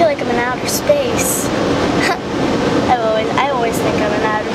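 Water sprays steadily over a Range Rover inside an automatic car wash, a constant hissing wash heard from within the car while a voice talks and exclaims over it.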